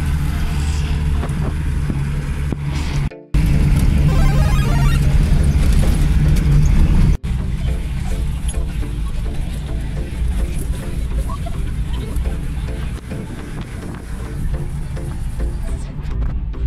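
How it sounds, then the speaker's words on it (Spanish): A 4x4 climbing a rough, broken dirt road near La Calera, Colombia, its engine droning loud and steady with rumbling jolts, briefly cutting out and returning, while people talk over it inside the cabin. "como complicado subir eso con un carro normal, por eso es un 4x4"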